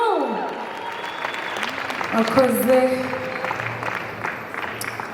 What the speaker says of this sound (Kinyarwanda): Amashyi menshi cyane nanone